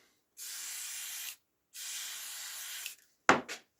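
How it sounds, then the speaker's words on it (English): Two even hissing bursts of glue accelerator sprayed from a can onto a Starbond glue-up, each about a second long with a short gap, followed by a quick clack. "now I need to put the accelerator on"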